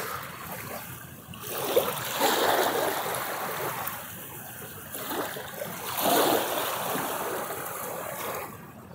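A small boat moving on open water under sunshine, with a steady wash of splashing and lapping water that swells and fades in waves, rising to louder surges around the middle and near the end.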